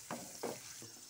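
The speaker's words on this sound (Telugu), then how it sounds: "మనం వేసిన వెల్లుల్లి మరియు తాలింపు గింజలు అన్నీ మంచిగా ఫ్రై అయిపోయినాయి" Garlic and tempering seeds fry in hot oil for a tomato and red chilli chutney, heard as a soft, faint sizzle with three brief swells as the pan is stirred, no voices.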